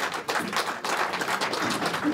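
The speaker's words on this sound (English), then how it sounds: "Give a round of applause." A crowd gives the fighters a round of applause after a main-event face-off, with uneven bursts of clapping that swell and dip for a couple of seconds at moderate loudness.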